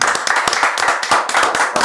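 A small team applauds at the end of the first episode of a business programme, several people clapping close by in quick, uneven bursts, loud and with no talk over it.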